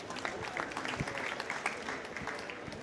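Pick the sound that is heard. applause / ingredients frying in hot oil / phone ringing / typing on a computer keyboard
applause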